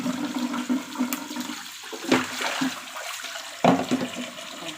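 Water runs steadily from a kitchen tap as fresh ginger is rinsed, a close rushing stream with a few sharper splashes and gurgles as the root moves under the flow.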